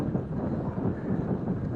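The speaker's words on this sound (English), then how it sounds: "It is definitely windy." Gusty wind buffets the microphone, a low rumbling rush that swells and eases for a couple of seconds.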